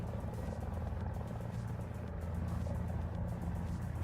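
A helicopter's rotor thrums and rumbles steadily at a fairly quiet level in the combat game War Thunder, a continuous low drone with no talk over it.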